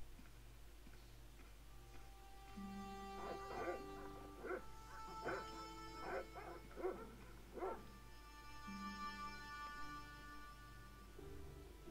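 Dogs bark in the Broken Sword remake video game, a run of short barks in the middle of the passage over a steady ticking and a quiet music bed.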